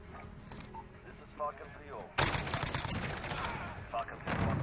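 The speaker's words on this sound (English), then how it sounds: "I'm being shot at." Rapid bursts of gunfire in the video game Call of Duty: Modern Warfare, at first muffled and distant, then breaking into a loud sustained volley of shots, with a player's voice speaking over it.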